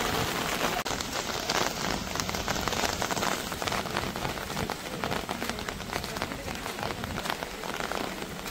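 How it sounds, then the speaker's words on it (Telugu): Heavy rain pours down on a college campus in the evening, a dense, continuous hiss of drops hitting surfaces, loud and steady throughout. "నుండి బాగానే పడుతుంది వర్షము"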